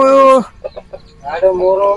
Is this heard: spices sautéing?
no